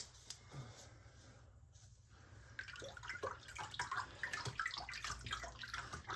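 A spoon stirs a Healifeco ionic foot spa solution into water: quiet at first, then a steady run of sloshing and swirling splashes with small drips, fairly close.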